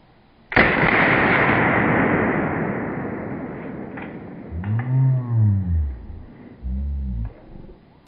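A single loud gunshot at a cowboy action shooting range, fired from a Ruger, Beretta or Cimarron gun, booms and rolls away in a long fading echo, followed by low indistinct voices.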